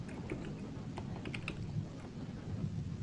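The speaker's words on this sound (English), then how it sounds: "I'm going to type in here Coon Rapids." Someone types on a computer keyboard while entering a town name. A quick, close run of clicking keystrokes sits over a steady background hiss.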